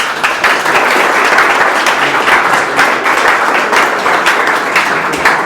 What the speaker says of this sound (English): The clapping was for the presentation